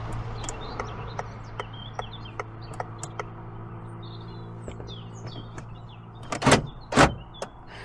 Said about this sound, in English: That is noisy central locking.